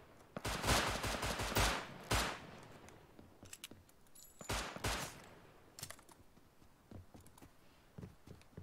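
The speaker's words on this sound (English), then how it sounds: "just instant gunfire." Rapid bursts of gunfire crack in clusters in the video game Rust, some dense and loud, others sparser and fainter, with brief lulls between volleys.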